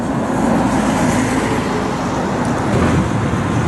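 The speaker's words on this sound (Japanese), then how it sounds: "電車が通りました。" A tram rumbles past on a busy city street in Hiroshima, steady broadband road noise with low mechanical drone throughout, fairly close and loud.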